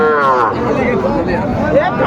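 A bull calf lows loudly and close by at a busy livestock market in Cumilla, one drawn-out moo heard over a murmur of crowd chatter and voices.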